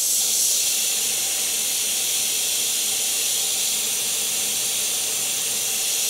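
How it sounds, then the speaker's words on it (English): An airbrush sprays glow paint around the eye of a painted clown face, giving a steady, continuous airy hiss that stays close and even from start to finish. "I'm going to spray a bit of glow"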